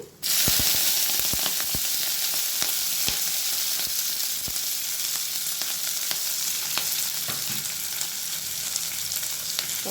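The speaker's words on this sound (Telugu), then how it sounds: "మనం కట్ చేసుకున్న ఆనియన్స్ పచ్చిమిర్చి ఇవన్నీ అయితే వేసుకోవాలండి" Chopped onions and green chilies sizzle steadily in hot oil for a Telugu bottle gourd curry, a loud continuous frying hiss with scattered sharp pops and crackles throughout, no voices.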